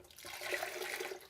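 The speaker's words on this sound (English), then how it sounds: "we're going to add a little more water" Water pours into a blender while making a vegan recipe, a steady rushing splash lasting about a second, fairly close and without talk.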